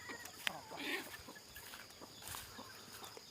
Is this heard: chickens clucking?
yes